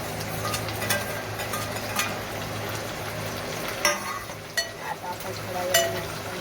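Tomatoes go into a hot pan of seasoned fried rice, a steady sizzle running throughout with scattered sharp clinks of a spoon against the pan.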